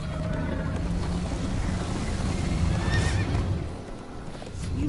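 A horse in the video game Minecraft Story Mode whinnies and gallops, close clip-clop hoofbeats running under a rushing, windy backdrop with a rising neigh near the middle.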